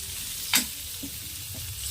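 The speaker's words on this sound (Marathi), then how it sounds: "आता यामध्ये आपण आलू ॲड करायचं आहे हलक्या हाताने असं छान असं मिक्स करून घ्यायचं आहे" Boiled potatoes are gently mixed in a frying pan over low heat, with a soft sizzle under a few light scrapes and taps of the spoon, one sharper scrape standing out early.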